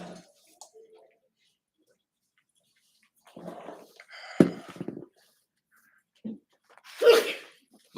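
A sneeze bursts out sharply near 7 seconds during a painting class, with scattered quieter sounds and brief murmurs earlier; a faint voice is heard in the background.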